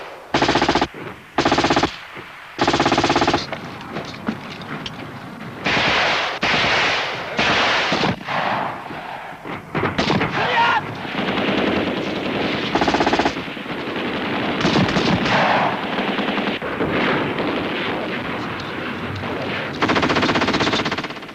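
Sustained machine gun fire from armoured personnel carriers, BTR-60PB type, supporting dismounted infantry and tanks in a Soviet battlefield attack, with loud rapid bursts separated by brief gaps, then continuous heavy firing and overlapping shots.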